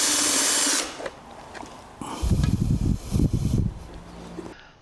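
A power tool removes bolts from the air flow meter of a Mercedes KE-Jetronic fuel system. It gives one short whir, then after a pause two bursts of buzzing drilling, close by.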